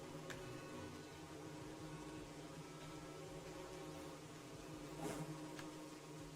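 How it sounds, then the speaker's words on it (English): Bees buzz in the video game Don't Starve, a continuous droning hum with a brief louder swell near the end. "We're gonna run away from these bees."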